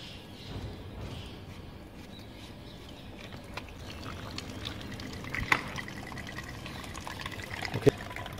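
Water draining from the fuel filter of a diesel car: a faint continuous trickle and splash lasting the whole stretch, with a few small clicks near the end and no speech.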